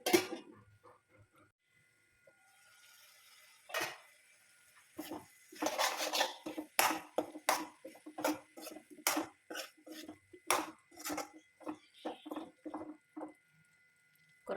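Metal clinks and taps from a cooking pot and its lid while koorka (Chinese potato) mezhukkupuratti cooks: a quiet start, then a run of sharp, close clatters at an uneven rhythm.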